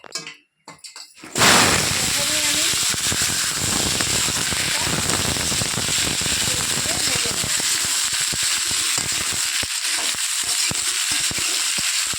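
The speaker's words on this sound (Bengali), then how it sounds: "কড়াইটা গরমও হয়ে গিয়েছে এখন আমি কড়াইতে তেল দিয়ে দিচ্ছি" Oil hisses and crackles as it hits a hot wok (kadai) for cooking Bengali kumro chhakka, a pumpkin dish. After a brief quiet start, a loud, dense sizzle sets in and spits steadily to the end, with faint voices in the background.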